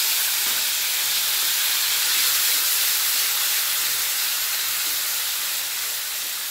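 Tomato paste with ginger and green chilli frying in a pan, a steady close hiss of sizzling that runs unbroken and fairly loud throughout, with no talking.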